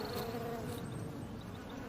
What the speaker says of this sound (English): Just look at that lavender, it's teeming with bees.